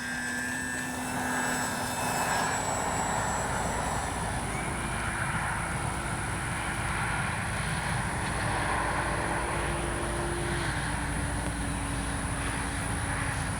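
E-flite P-51D 1 m RC model warbird flying overhead, a steady electric-motor and propeller whine with shifting pitch as it passes, sustained and moderately loud against outdoor ambience.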